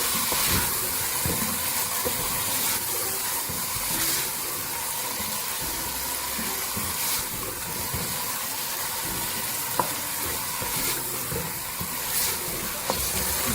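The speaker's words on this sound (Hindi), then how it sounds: "अब इसको भूनेंगे मसाले के साथ अच्छी तरह से तेज आंच पे" Moong and masoor dal roasting with spices in a pan over a high flame, a steady close sizzle and hiss with occasional scraping stir clicks throughout.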